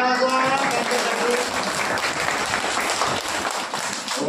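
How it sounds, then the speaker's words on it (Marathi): Loud audience applause for a birthday celebration, a dense, continuous crowd clapping throughout with voices mixed in beneath it. "जोरात टाळ्या वाजवा त्यांच्यासाठी"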